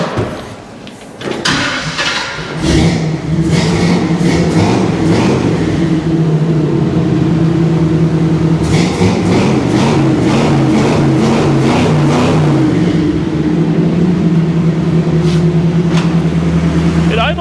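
A 1956 Chevy truck engine fitted with a Predator carburetor, running steadily loud and close, its throttle blipped into revs and then held at a fast idle, with people talking briefly over it.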